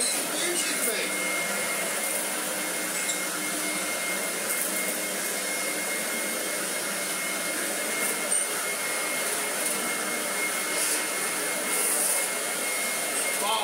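A Vorwerk Kobold vacuum cleaner runs steadily on the floor with a constant high-pitched motor whine and airy rush, moderately loud and unbroken throughout.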